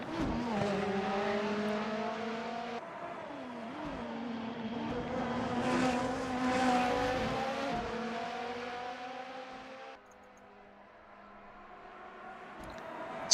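Race car in the Assetto Corsa video game at Sebring, a loud high-revving engine climbing through gears, pitch rising and dropping with each shift, then easing off.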